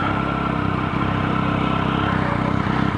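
Motorcycle engines of a mixed group of bikes including Ducatis and MV Agustas at a ranch gathering, a steady close rumbling idle with clattery mechanical texture continuing throughout.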